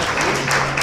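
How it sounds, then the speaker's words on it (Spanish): A church congregation claps, giving a dense, loud patter of many hands with a low steady hum underneath. "Dele palmas al Señor"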